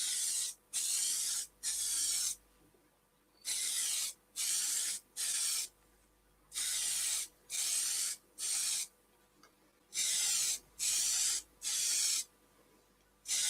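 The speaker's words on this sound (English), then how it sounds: "Tonight I'm using a spray-on cellulose sanding sealer, just for a change." Spray-on cellulose sanding sealer applied to a spalted beech bowl, a run of short, steady hissing bursts, each about a second long, separated by brief pauses, close and fairly loud.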